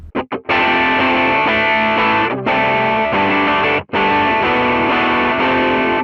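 Guitar played through a virtual amp with overdrive in STL Tones AmpHub: two short picked stabs, then long sustained distorted chords broken by two brief gaps, loud and up close with no voices.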